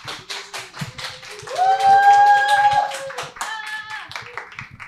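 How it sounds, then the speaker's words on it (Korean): A church congregation at a Friday worship service claps steadily to welcome a missionary, the brisk rhythmic claps running throughout while sustained musical tones swell in the middle and then fade. "큰 박수로 환영해 주십시오"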